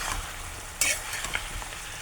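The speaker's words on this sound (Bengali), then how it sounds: "এবার একটু নাড়িয়ে দেবো।" Vegetable stalks, potatoes and lentil dumplings are stirred in a frying pan, with a steady close sizzle and a few sharp scraping clatters of the spoon.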